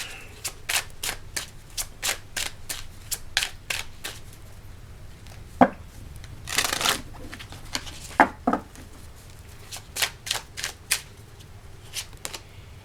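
Tarot cards are shuffled close up in a quiet room. Crisp riffles and slaps come in quick irregular bursts, with one longer flutter in the middle.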